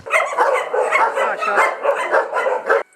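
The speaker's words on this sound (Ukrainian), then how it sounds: "Всі шість собачок." Several dogs at an animal shelter bark and yip together in a dense, loud, close chorus of overlapping barks that runs for about three seconds and then stops abruptly.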